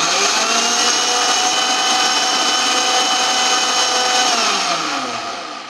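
A loud, steady whirring Indian mixer grinder grinds green paste for biryani continuously for several seconds, then begins to wind down at the end.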